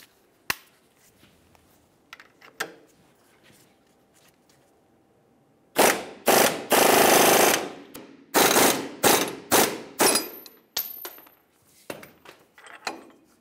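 On a 2002-2007 Chevrolet Trailblazer, an upper ball joint is driven into the front passenger steering knuckle: quiet clicks first, then a loud burst of sharp, rapid mechanical rattling hammer blows, tapering into scattered impacts.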